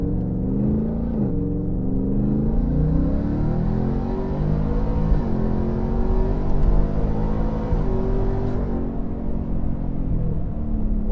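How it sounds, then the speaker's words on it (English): A modified 700-horsepower Ford F-150 Raptor R pickup in sport mode gives a steady, loud exhaust drone with a low rumble while it cruises. Nothing else is heard. "as soon as you put this truck into sport, you do notice that the burbles, even at your regular speed, it gets louder."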